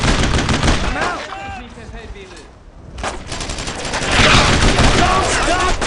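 Heavy, continuous gunfire in a World War II combat scene from the game Brothers in Arms: Road to Hill 30, loud rapid bursts that briefly ease off mid-way before surging back, with shouted voices mixed in.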